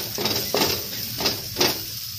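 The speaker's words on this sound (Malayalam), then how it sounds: "ഇനി ഇതിലോട്ട് ഒരു ടീസ്പൂൺ മല്ലിപ്പൊടിയും കൂടി ആഡ് ചെയ്യുന്നുണ്ട്. അതും കൂടി ഒന്ന് വഴറ്റിയെടുക്കാം." Coriander powder and spices sauté in a hot pan for a Kerala potato curry, a steady close sizzle with four rhythmic swells as the mixture is stirred.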